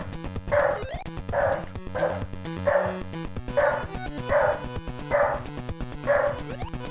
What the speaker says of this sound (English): I think that's enough barking at the FedEx truck.